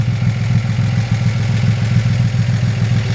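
A 1941 Chevrolet Business Coupe engine idles steadily up close, a low rhythmic chugging pulse with a faint mechanical clatter, no voices.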